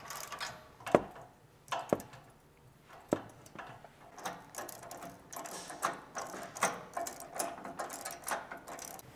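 Bolts on an ARB front tow hook on a 2016-2023 Toyota Tacoma being tightened with a hand ratchet, giving short irregular bursts of close metallic clicking and knocks against a quiet background.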